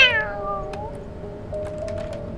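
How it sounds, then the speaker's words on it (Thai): A cat in the horror video game Damned lets out a loud, drawn-out descending meow, then a second, longer wavering yowl, close and clear over a low ambient game hum. "เฮ้ยเสียงแมว แมว"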